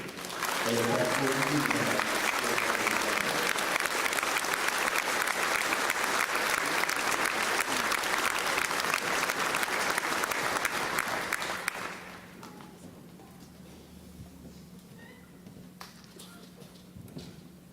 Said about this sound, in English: Now, we give a round of applause for the Northwood High School graduating class of 2022.